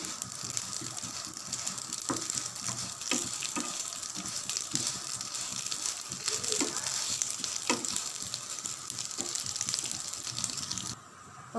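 Vermicelli (semiya) fries for payasam in a pan, a steady close sizzle with repeated scraping and stirring clicks throughout, no talking.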